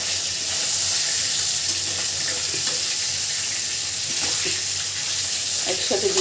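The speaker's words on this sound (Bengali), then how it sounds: "মাছটাকে এরকম লাল লাল করে ভেজে নেবেন।" Fish frying in a pan, turned until reddish-brown, gives a steady, close sizzle throughout, with a few faint clinks near the end.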